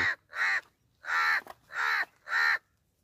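A talking crow in Gargaon, Palghar, gives five loud, close, harsh caws in an even series with short gaps between them, and no voices are heard.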